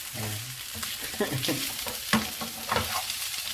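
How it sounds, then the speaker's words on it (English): Sisig with hot peppers frying in a pan and being stirred, a close, busy crackle of sizzling fat with repeated scraping strokes as the mixture is turned. "so now we're gonna kind of fry all this up and mix it together"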